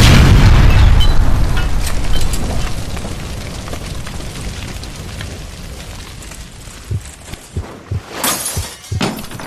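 A gas line explosion in L.A. Noire detonates loudly, followed by shattering debris and rumbling that fades, with a few sharp crashes near the end.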